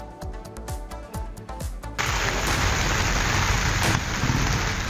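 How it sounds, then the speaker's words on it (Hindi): Heavy monsoon downpour in flood-hit Andhra Pradesh, at first with scattered dripping and splashes, then a sudden dense, loud roar of rain on surfaces that continues steadily with no voices. "आंध्र प्रदेश के कुछ इलाकों में कई दिनों से मूसलाधार बारिश हो रही है।"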